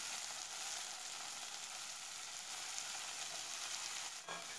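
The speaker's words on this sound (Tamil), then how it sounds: "சேர்த்து நல்லா வதக்கி விட்டுக்கோங்க" Green turkey berries and onion sauté in a pan for sundakkai vatha kulambu, a soft, even sizzling hiss that runs the whole time, with a brief scrape near the end.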